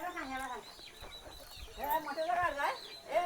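Several chickens cluck and squawk nearby in a village in Khed, Ratnagiri, in short, overlapping bursts, with scattered rustling in the background.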